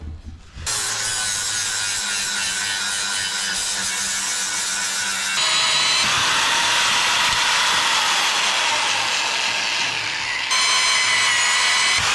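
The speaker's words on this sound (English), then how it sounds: "what we need to do is drill a new hole right there and right there" Continuous loud, harsh whirring of a power drill drilling into metal, shifting pitch midway and running steadily without pauses; no voices.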